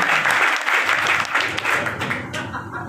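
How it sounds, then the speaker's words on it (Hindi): A crowd claps together at a Congress party office inauguration rally in Dabra, with dense, steady applause that carries on for the whole stretch and softens slightly toward the end. "आपने ताली से बताओ"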